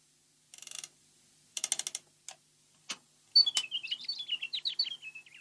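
A real nightingale and a mechanical jewelled nightingale sing together. Short bursts of clicking, ratchet-like chirps come first, followed by a run of quick, bright, high warbled notes, all up close against silence.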